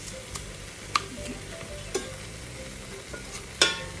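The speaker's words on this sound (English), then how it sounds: "I'm gonna go ahead and add our garlic" Pressed garlic cooking in a soup pot with beef, a quiet steady sizzle broken by a few sharp utensil clinks against the pot, no talk.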